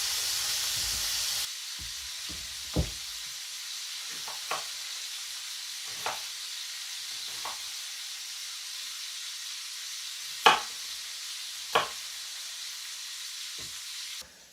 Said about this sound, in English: the venison is cooking well, and of course the bacon's already done